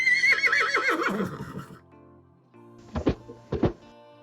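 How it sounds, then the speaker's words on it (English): A horse gives a loud, close, wavering whinny lasting over a second, followed by a quiet pause and two short snorting thuds. "H is for horse."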